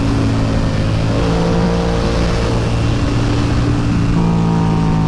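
A Yamaha R7 motorcycle engine drones steadily and loudly while the bike is ridden through twisty roads, the pitch shifting slightly as the rider works through the bends, with wind roar throughout.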